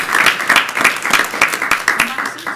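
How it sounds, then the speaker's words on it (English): Audience applause at an Irmo town council meeting, a short burst of steady clapping from a small crowd close by, with no talking over it. "So, round of applause, folks."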